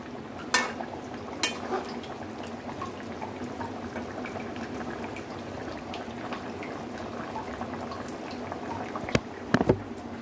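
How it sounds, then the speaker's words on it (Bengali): Red chicken curry with potatoes simmering in a pot, a soft steady bubbling bed with a few sharp clinks and scrapes of a spoon stirring now and then, close and moderately quiet. "মাংসটা সেদ্ধ করার সময় মাঝে মাঝে 1-2 বার একটু নেড়ে চেড়ে দেব।"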